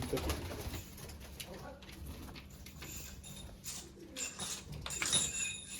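Pigeons in a coop cooing softly with low repeated calls amid faint rustling, fluttering and scratching, all quiet and close, with a hint of voices in the background.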